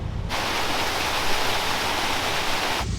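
A waterfall on a rugged off-road trail gives a steady, loud, broadband roar of rushing water that stays constant and alone, with no voices.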